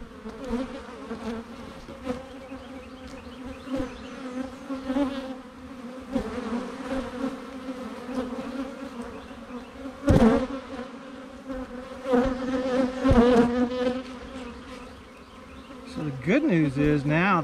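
Bees swarm in a dense, steady buzz around an open beehive, close and loud, with wingbeat tones that waver as individual bees fly past the microphone.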